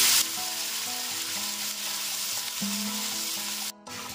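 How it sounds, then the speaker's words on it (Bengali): Chopped onions fry steadily in a pan, a continuous close sizzle running throughout with a brief dip near the end, with no talking. "পেঁয়াজটা আমার ভাজা হয়ে গেছে"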